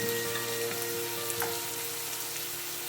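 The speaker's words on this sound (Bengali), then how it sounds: "আঁচটা বাড়িয়ে দিলাম। এবার মশলাটা কষাতে হবে।" Spice masala sizzling in a pan over raised heat while it is stir-fried, a steady close frying hiss with small pops and scrapes, no talking.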